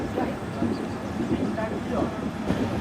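An express train rolls slowly into Rajkot station, a low steady rumble and rattle heard from inside the coach, with people talking quietly over it.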